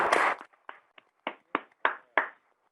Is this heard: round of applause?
yes